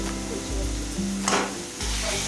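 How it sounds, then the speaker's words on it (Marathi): Chopped tomato and onion stir-fried in oil for a Kolhapuri misal sizzle steadily up close, with a few soft scrapes and stirring knocks breaking through the continuous frying hiss. "आणखीन याला पाच मिनटं आपल्याला असंच छान असं हलवून एकसारखं परतून घ्यायचं आहे"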